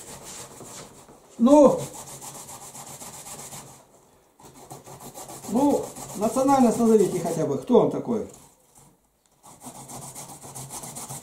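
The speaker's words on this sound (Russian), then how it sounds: "Вот я сейчас вторую морковку натираю." Carrots grated by hand on a grater, a raspy scraping that comes in short bursts with pauses, close by, while someone talks over it.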